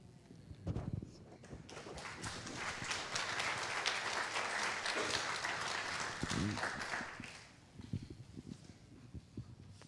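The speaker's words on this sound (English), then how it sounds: "Can we have another round of applause?" A church congregation at an Advent service breaks into applause that rises quickly, holds as a dense wash of clapping, then fades, with scattered louder claps and some talking at the edges.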